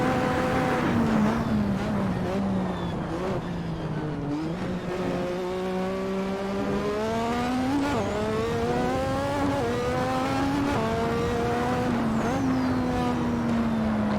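Lotus 98T Formula One car in Assetto Corsa screams at high revs, with several rising pitch sweeps as it climbs through the gears to sixth and dips on shifts, loud and continuous with no talk.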